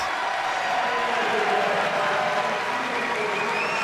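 A packed arena crowd at a college swimming championship roars and applauds after a record-breaking 400 individual medley, a loud continuous wash of cheering and clapping, with a commentator's voice faintly blended in.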